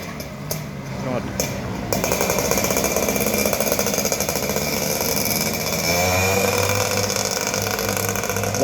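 A loud motorcycle on a street in China, its rough buzzing engine roaring steadily nearby and swelling as it passes, with someone talking over the noise.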